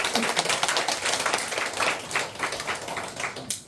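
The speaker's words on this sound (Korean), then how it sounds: "우리 배영태 집사님 감사의 박수 한번 올려주시면 좋겠습니다" A church congregation applauding, a sustained patter of many hands clapping at moderate volume, fading slightly near the end.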